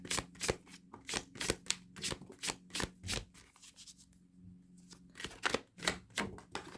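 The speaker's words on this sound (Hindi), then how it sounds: "मैं आपके लिए कार्ड शफल करती हूँ पालतू। तो जैसे मैं शफल कर रही हूँ" Tarot cards being shuffled close up in a rhythmic series of soft slaps and riffles, pausing briefly before resuming, quiet with no talking.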